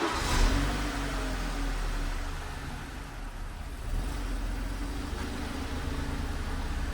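A BMW car's engine, a four-cylinder, runs steadily close by, with a low rumbling idle and mild revving swells that continue through the whole stretch without a break.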